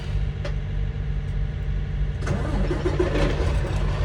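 Diesel engine of an over-the-road semi truck rumbles at idle and then builds slightly as the rig pulls forward a short way, a steady, close, low drone with faint clicks and rattles on top.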